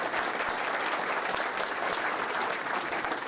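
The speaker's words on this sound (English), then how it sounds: "if we could get a round of applause for these amazing women" Sustained, dense applause from an audience honoring the Florida Elite women's soccer team at an announcement event, even and unbroken clapping filling the whole clip at moderate distance.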